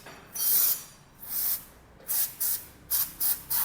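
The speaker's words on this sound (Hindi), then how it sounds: "यहाँ पे भी हमने WD-40 का स्प्रे कर देना है" WD-40 is sprayed from an aerosol can onto the buttons of a motorcycle handlebar grip, in seven sharp hissing bursts, the first ones longer and the last ones quick and close together.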